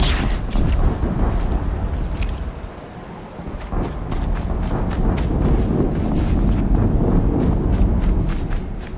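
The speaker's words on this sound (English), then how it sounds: "Another explosion." Loud explosions booming in the action game Horizon Zero Dawn, a rumbling low-heavy blast with dense crackling debris, followed by further bursts around the middle and later, continuous and close.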